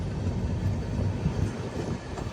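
An AC Express train pulls into Chiplun railway station in hilly country, heard as a continuous heavy rumble with a steady wash of rolling-wheel noise and no clear horn.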